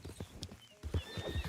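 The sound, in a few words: brindle thoroughbred horse hooves in video game Red Dead Redemption 2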